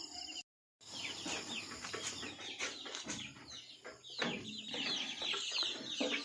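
Chickens cluck and chatter inside a chicken house, a busy overlapping mix of calls and short squawks close by, with a brief silent gap near the start and no talking.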